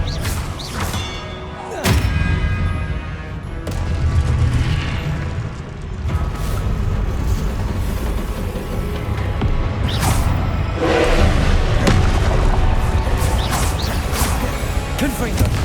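Confringo blasting spells erupting in Hogwarts Legacy combat, a string of heavy booms and crashing thuds at irregular intervals, loud and dense, with brief voiced spell calls mixed in among the impacts.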